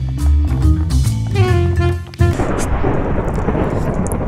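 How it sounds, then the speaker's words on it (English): Thunder rumbles through steady rain in Minecraft, first a low crackling roll with music-like tones, then a broad loud wash of rain and rolling thunder filling the rest. "Who just cast the thunder spell?"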